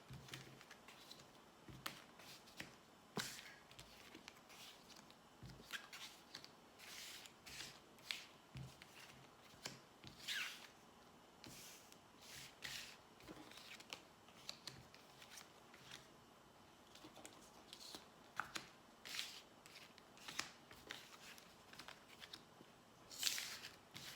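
A deck of tarot cards being cut and shuffled, giving soft, repeated papery riffles and slaps close by, with scattered crisp card snaps over a quiet background and no talking.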